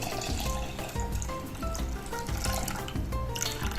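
Water poured from a jug into a Thermomix bowl while making beef pho, a steady, continuous splashing and trickling stream at close range with no voices.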